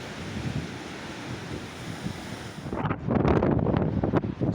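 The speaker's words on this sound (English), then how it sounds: "the wind's dying down the whole time" Strong storm wind on the Isle of Arran buffets the microphone in a steady roaring rush, then surges into heavier, gusting blasts that grow louder toward the end, with no voices.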